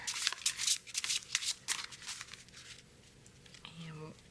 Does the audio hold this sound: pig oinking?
no